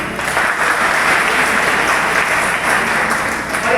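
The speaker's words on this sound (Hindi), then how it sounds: "मैं एक बार जोरदार ताली चाहूंगा" A large audience claps loudly and steadily at a leadership event, a dense continuous roar of hands that holds level for the whole stretch with no talk over it.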